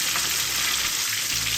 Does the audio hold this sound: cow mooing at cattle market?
no